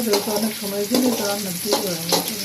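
Chicken frying in a pan with onion for a korma, a loud close sizzle with stirring scrapes, while a voice talks faintly underneath.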